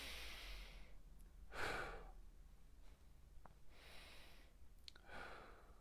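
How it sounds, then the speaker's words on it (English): Slow, deep breaths in and out come close and soft in a calm setting, about four long airy swells spread evenly across a few seconds, with no talk. "So big breath in. Couple more times."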